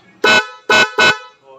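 Three loud, blaring Honda Beat motorcycle horn blasts sound close by in quick succession, each lasting about a sixth of a second, with short gaps between them.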